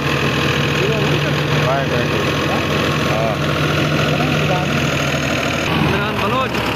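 A New Holland tractor engine idles in a steady, loud, unbroken drone, with faint voices in the background.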